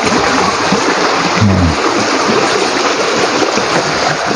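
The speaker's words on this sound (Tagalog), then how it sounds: "So ito po yung ilog" A river at a scout camp flows in a constant loud broadband rush, close and steady throughout, with a brief low splash or thump partway through.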